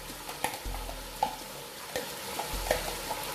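Yogurt hits a pan of sizzling chicken korma masala, a soft frying hiss broken by repeated sharp scraping and clinking of a spoon stirring, close and fairly quiet.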